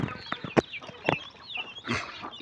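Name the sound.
hens clucking in a small breeding unit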